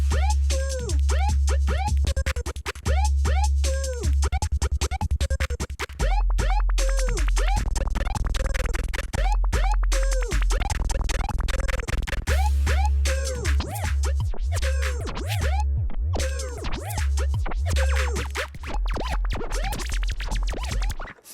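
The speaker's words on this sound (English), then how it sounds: "the delays to kind of scrub and pitch around the sound dynamically, like a record being scratched" Delay effect triggered from an APC40 controller, scrubbing and bending pitch like a scratched record: rapid rhythmic warbling swoops over a pulsing low beat, loud and continuous with no voices.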